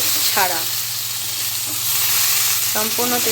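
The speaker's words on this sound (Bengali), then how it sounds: "এই যে দেখো চিকেনটা কিন্তু একদম ভাজা হয়ে গেছে। এটা কিন্তু পুরো সম্পূর্ণ তেল" Chicken fries in a pan without added oil, giving a loud, steady sizzle throughout, with a couple of brief voiced sounds rising over it.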